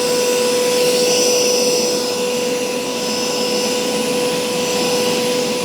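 A Hoover Power Scrub Deluxe carpet cleaner runs steadily and loudly at close range, a constant motor whine with a sustained tonal hum, working into carpet without pauses and with no talking.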